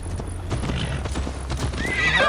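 Horses gallop in Assassin's Creed Valhalla, steady clip-clop hoofbeats running throughout with a horse neighing and whinnying, loud and close, with no talk over them.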